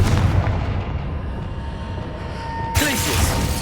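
The Confringo explosive spell goes off in the Hogwarts Legacy video game, with booming low blasts at the start and a sharp burst near the end over steady rumbling game ambience.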